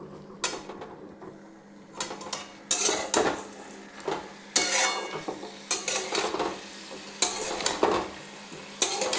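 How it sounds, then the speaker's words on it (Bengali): Spinach with salt, turmeric and sugar is stirred in a pan, producing repeated loud metallic scrapes and clanks of a spoon against the vessel over a faint hiss. "এবারে ভালো করে এটা সুন্দর করে মিশিয়ে নাড়িয়ে নিই।"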